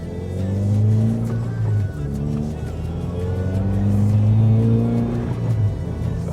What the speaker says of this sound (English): It's some nighttime driving, but we get to do some driving.